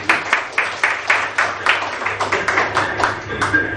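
A small lecture audience claps after a physics talk, with sparse, uneven handclaps in a steady patter that is close and moderately loud.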